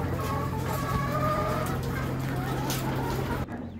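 Chickens cluck and murmur continuously nearby, a flock's soft overlapping calls over a low steady hum, cutting off abruptly near the end.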